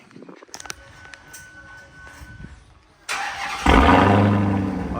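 Dodge Hellcat Charger SRT with a mid muffler delete cranks over and fires up, the starter chatter giving way to a loud, deep, aggressive idle rumble that holds steady close by.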